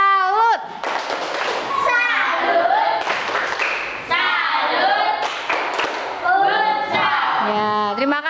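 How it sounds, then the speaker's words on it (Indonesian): A classroom of children performs a rhythmic 'tepuk salut' salute clap, with patterned hand claps and thumps mixed with children chanting in unison, loud and close. "Tepuk salut."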